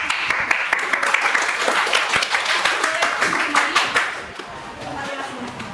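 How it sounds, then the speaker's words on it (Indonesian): A classroom full of students and a teacher applaud a student group, with steady hand clapping for several seconds that fades out, while a voice speaks over the clapping. "Mari kita beri aplaus untuk kelompok kita yang sudah berani."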